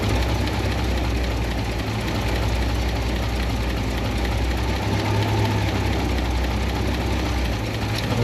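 An International 1110 pickup's engine idles with an old 2-barrel carburetor, a steady low rumble holding even and close throughout, with no talk.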